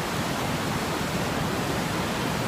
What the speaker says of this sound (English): on my water blessing walk at the Sugar River, flooding through here in Wendell Marsh